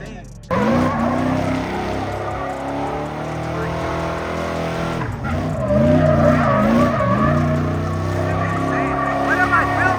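A truck slides through a desert corner as its engine revs hard and loud close by and its tires squeal and skid, then the sound swells near the end; voices talk over it.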